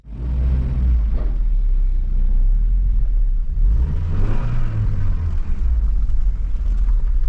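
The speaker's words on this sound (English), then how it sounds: "Let's go move this Astra out." A Vauxhall Astra CDX estate pulls away with a steady, loud low engine rumble that swells as it gets moving, close by with no voices.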